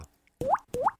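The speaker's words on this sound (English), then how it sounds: "Are you ready to fix the drip?" Two close, resonant water drops plop in quick succession after a near-silent start, each with a rising, hollow tone.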